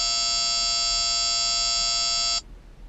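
A Max 360C radar detector sounds a loud, steady buzzing alert tone that holds for over two seconds, then cuts off abruptly to quiet background hiss.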